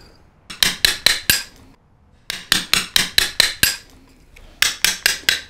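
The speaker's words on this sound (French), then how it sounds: "je prends mes couteaux pleins pour enlever les traces laissées par les couteaux à dents" Hand tools strike stone as a sculptor smooths a cavity with flat-edged chisels, removing marks left by toothed chisels: three bursts of sharp, evenly spaced metallic taps, four to six blows each, close and loud with quiet pauses between.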